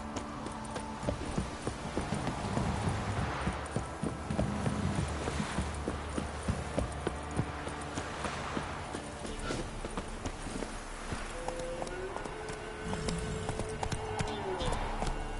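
Hooves of Roach, the horse in The Witcher 3, clip-clop steadily at a brisk pace across the ground, rhythmic and close, with a voice speaking intermittently over the hoofbeats.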